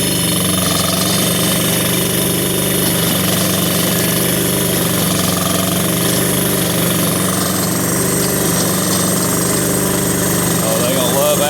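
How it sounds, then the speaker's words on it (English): Kubota tractor with a tiller attachment working soil for a chicken dust bath, a loud, steady mechanical roar and rapid pounding rattle that continue without a break throughout, close by. "get our tiller ready, line it up, drop the tiller down."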